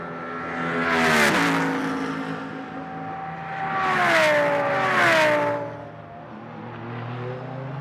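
GT race cars at a Blancpain Sprint Series free practice session in Moscow roar past one after another, engines climbing and falling in pitch as they approach and pull away, with three loud passes spaced across the stretch.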